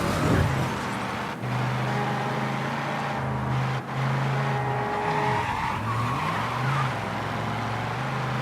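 Car driving in the Mafia III video game, a loud continuous engine roar with long tire squeals and skidding sliding in pitch as the vehicle swerves, close and sustained throughout.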